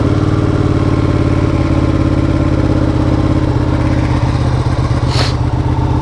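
A Ducati 959 Panigale motorcycle engine runs loud and close in sport mode, a steady rumbling idle with a dense harmonic drone throughout and a brief bright blip near the end.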